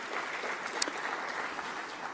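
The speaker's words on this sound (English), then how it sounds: "Could we have a huge round of applause for our wonderful jury?" At a business awards ceremony, an audience applauds the jury with steady, moderately distant clapping that fills the whole stretch, with one sharp click near the middle and no speech.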